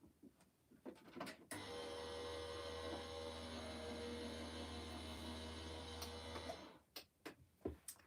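A die cutting machine runs a decorative die for about five seconds, a steady motorized whir with a humming tone, framed by clicks and handling noises before and after.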